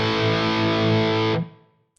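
Heavy distorted electric guitar through a Fractal FM3 preset with amp, cab and reverb, a thick sustained chord ringing loudly before being abruptly cut and decaying into a short reverb tail.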